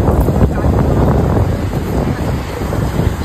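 Sea waves roar steadily with strong wind at a beach, a loud unbroken wash of surf and gusts buffeting the microphone, with no voices.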